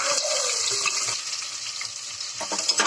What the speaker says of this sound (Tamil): வெங்காயம் போட்டு நல்லா பொன்னிறமாக வதக்கிக்கோங்க.